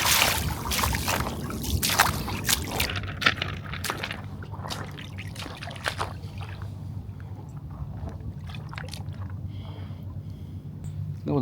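Paddling in Loch Ness, with steady sloshing and splashing of water against a small boat or board, the strokes irregular and close over a continuous low rumble of wind or current.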